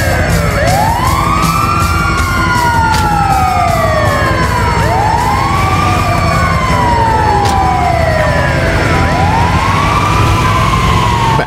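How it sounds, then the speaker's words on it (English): An ambulance siren in the video game GTA 5 wails loud and close, rising and falling sweeps repeating steadily throughout over a dense engine and traffic rumble, with no speech. "it's the ambulance"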